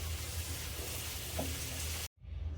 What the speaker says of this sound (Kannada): ಇಷ್ಟನ್ನು ಚೆನ್ನಾಗಿ ಫ್ರೈ ಮಾಡೋಣ